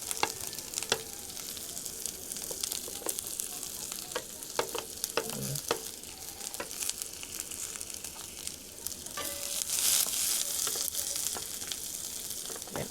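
Onion and ginger sautéing in a pan for a goat stew, with a continuous moderate sizzle broken by frequent sharp clicks and scrapes of stirring, close by and without speech.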